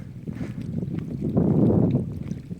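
Wind blowing at a rocky seaside, a steady low rumble buffeting the microphone that swells louder midway before easing off.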